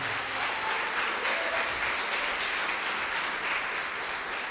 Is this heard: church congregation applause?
yes